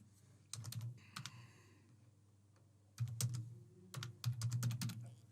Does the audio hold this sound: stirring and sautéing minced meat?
no